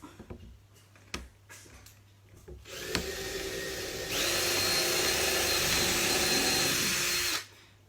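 A power drill in high gear bores into timber while building a wooden workshop frame: a few light knocks first, then the motor whines up, grows louder mid-way as the bit bites, and stops abruptly near the end.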